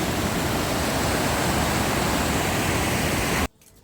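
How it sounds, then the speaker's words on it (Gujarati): River water pouring over a bridge across the Meghal river near the overflowing Bhakharvad dam, a loud close continuous rushing roar that cuts off abruptly near the end. "નદી ઉપર બાંધેલો પુલ છે અને જો પાણી છે"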